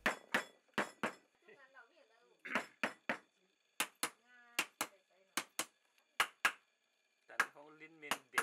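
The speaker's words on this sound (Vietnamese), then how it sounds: "người thợ bắt đầu hình thành sản phẩm bằng các dụng cụ truyền thống như búa đập," Traditional Nùng silversmith hammering silver on a wooden block: sharp, ringing metallic strikes come in irregular bursts of two or three, close and loud, with pauses between them.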